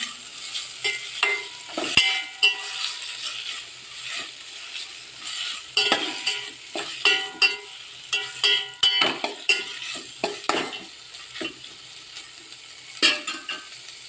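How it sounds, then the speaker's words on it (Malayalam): Food frying in a pan on a flame, with ivy gourd among the ingredients, stirred by a utensil that scrapes and clinks against the pan over a steady sizzle, close and fairly loud, with no speech. "നന്നായിട്ട് ഇളക്കി കൊടുക്കാം"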